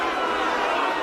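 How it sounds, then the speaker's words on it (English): A restless arena crowd in the Mortal Kombat 9 fighting game gives off a dense, continuous murmur of chatter, steady and fairly loud throughout the short moment. "The crowd's really not happy"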